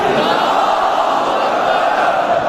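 A large crowd at a religious majlis in an imambargah in Lahore raises a loud, sustained collective chant, a dense roar of many voices with no pauses.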